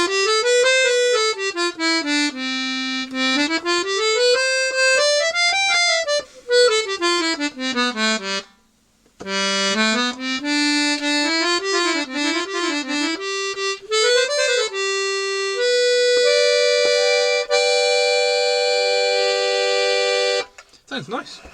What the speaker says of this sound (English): So this should be just a set of reeds which are tuned A440, and it sounds like this.